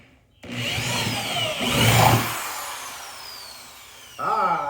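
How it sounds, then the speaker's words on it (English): Power jigsaw cutting holes for a homemade air conditioner, a buzzing cut that starts suddenly, swells and trails off, then restarts near the end, close and moderately loud. "That should give us enough room for our jigsaw. We're gonna cut a couple other holes."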